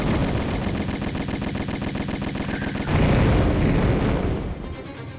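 Rapid Uzi gunfire in Tomb Raider, a dense rattling burst that runs for a few seconds, then a louder crash and a fading tail. It sounds close, with no speech.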